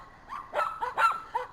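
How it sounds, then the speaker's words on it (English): Puppies and dogs yip, bark and whimper in a quick, close burst of several short, high-pitched cries. "Here is some puppies that we have"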